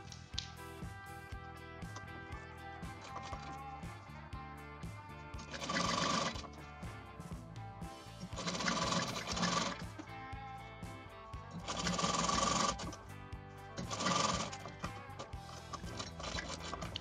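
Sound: sewing machine stitching a zip into a blouse

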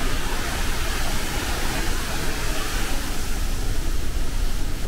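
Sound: Niagara Falls roaring heard from tunnel behind the falls

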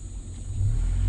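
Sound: bus driving past

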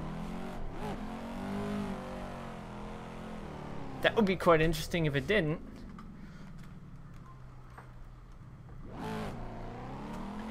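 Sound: Mazda Miata engine revving in a Fanatec wheel racing video game

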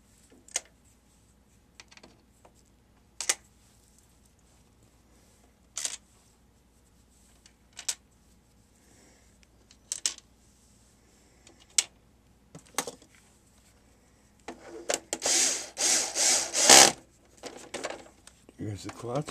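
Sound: screws being put into an NES console cover

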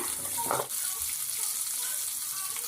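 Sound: shallots and garlic being sautéed in a pan

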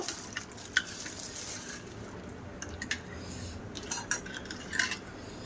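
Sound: stirring and mixing fuchka filling with spices

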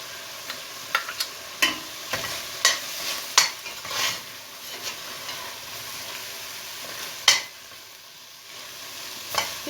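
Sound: peppers and garlic frying in a pan

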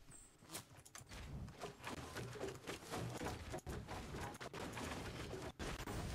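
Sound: gunfire in the video game Fortnite

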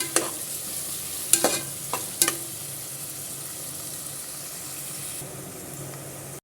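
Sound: sautéing masala for chicken kulambu

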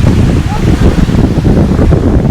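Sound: strong seashore wind blowing

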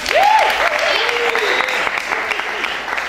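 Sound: audience applause

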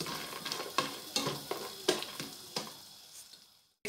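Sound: nuts frying in a pan for sheer khurma

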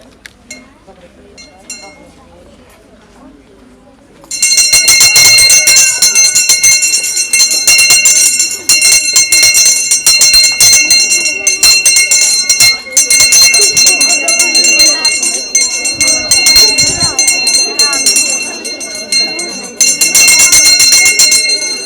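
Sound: school first bell ringing

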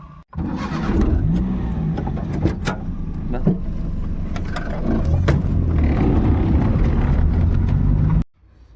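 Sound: vehicle arriving

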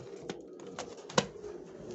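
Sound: pigeon

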